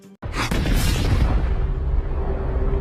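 In a film scene, a bomb goes off with a sudden loud boom that opens with a whooshing burst, then rolls on in a dense, rumbling roar that slowly tapers. No one speaks.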